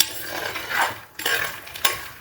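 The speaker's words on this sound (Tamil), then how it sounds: "இந்த மக்கானவை இந்த நெய்யிலே வறுத்து எடுத்துடணும்" Makhana (lotus seeds) frying in ghee in a pan for a cashew makhana gravy, giving a soft, steady sizzle with scraping stirring strokes and a few sharper clinks near the pan, without any voices.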